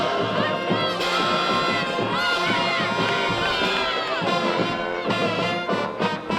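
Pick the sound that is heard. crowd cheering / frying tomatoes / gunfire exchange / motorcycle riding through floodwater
crowd cheering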